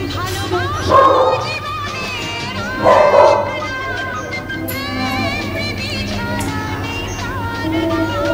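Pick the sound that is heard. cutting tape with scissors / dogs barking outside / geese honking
dogs barking outside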